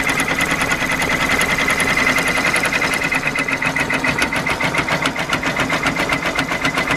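Sewing and embroidery machine stitching fabric for a birthday shirt, a loud, close, continuous rapid needle chatter with a steady mechanical rhythm throughout.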